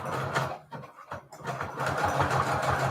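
Sewing machine stitching thick lace with teal thread, a steady mechanical whirr running throughout with a brief slowdown in the middle, close and moderately loud.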